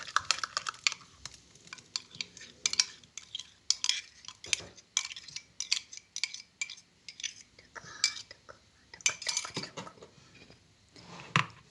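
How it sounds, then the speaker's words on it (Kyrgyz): Kefir with baking soda stirred in a bowl for cookie dough, a close run of quick scraping and clinking utensil strokes against the bowl, uneven in rhythm, with no talking. "Бир аз аралаштырып чыгабыз."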